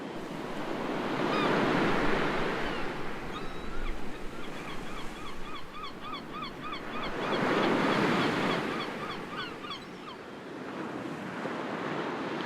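Ocean waves wash onto a sandy shore in slow swells, two broad surges rising and falling, with distant bird honks and calls scattered over the steady surf.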